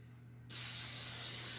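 A can of cooking spray coats a baking pan, a sudden sharp hiss that starts after a short quiet moment and then holds steady and close.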